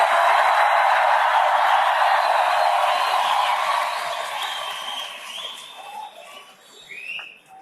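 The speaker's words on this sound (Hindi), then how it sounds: "यह आपके तालियों की गूंज पोरबंदर तक सुनाई जा रही है" Dense, sustained clapping from a large audience at a speech by PM Modi in Gujarat rolls on loudly, then thins and fades toward the end with a few scattered claps.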